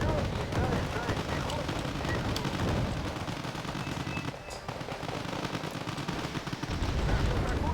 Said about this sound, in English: What's he firing with? Cluster strikes.